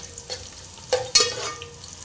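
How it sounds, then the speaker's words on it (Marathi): A garlic tempering for mutton curry sizzles in oil as it is stirred until red, a low hiss punctuated by a few sharp, close spoon scrapes against the pan. "लसूण छान लाल होईपर्यंत फोडणी परतून घेऊया।"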